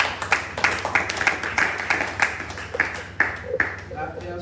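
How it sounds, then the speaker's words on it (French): At a transformational leadership gathering, a small audience claps in a slow, rhythmic unison, about a dozen distinct claps spaced roughly evenly, moderately close and fading out at the end. "Applaudissons pour lui."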